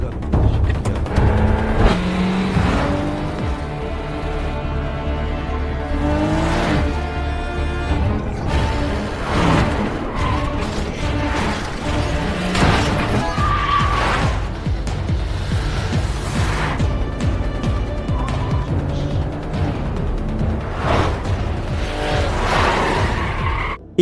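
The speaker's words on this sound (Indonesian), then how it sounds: "Dengan cepat ia langsung menancap gas dan langsung pergi dari sana." A car in a gangster film accelerating hard and speeding away, engine revving over repeated tire squeals and skids, mixed with a dense, loud cinematic soundtrack throughout.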